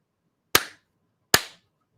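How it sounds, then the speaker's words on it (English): Two sharp, close hand claps made to sync audio on a recording call, spaced about a second apart in an otherwise quiet room. "We'll just do a clap one at a time."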